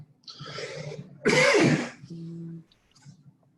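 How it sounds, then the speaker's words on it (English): A couple of short, harsh coughs close by, the second one louder, followed by a brief low throat sound. "It's a dry cough, it's a bad sign."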